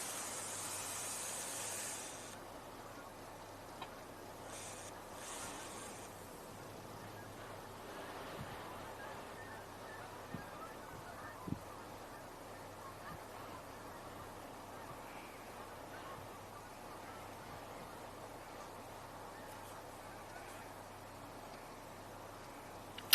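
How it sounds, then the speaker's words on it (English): Canada geese honk faintly in the distance, a few scattered calls over a quiet outdoor background with no talking. "Yes, Canada geese to our right."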